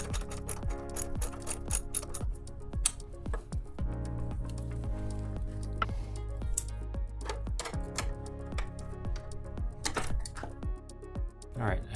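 A T45 driver spins out the kickstand pivot bolt on a Husqvarna 701 motorcycle, giving rapid ratcheting clicks and metallic ticks up close in repeated bursts, with a low hum beneath.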